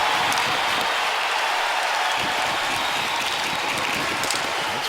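Hockey arena crowd roaring after a goalie's back-to-back saves in an NHL game between the Anaheim Ducks and Columbus Blue Jackets, a sustained wash of cheering and applause filling the whole stretch.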